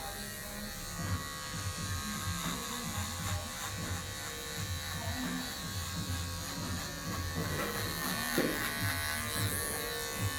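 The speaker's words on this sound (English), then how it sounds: "I'll just get down to eye level and bring my clippers up like that" Electric hair clippers buzz steadily and close up through a flattop haircut, a continuous hum with slight shifts as the blades move through the hair.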